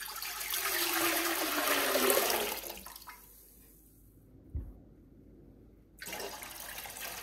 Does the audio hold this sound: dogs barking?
no